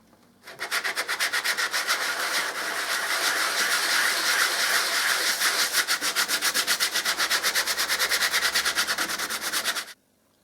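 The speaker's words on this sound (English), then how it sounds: "I can just give this a light sand over the surface" Light sanding across the surface of a hollow interior door, a steady close rhythmic scratching of rapid back-and-forth strokes that runs continuously for about nine seconds before stopping abruptly.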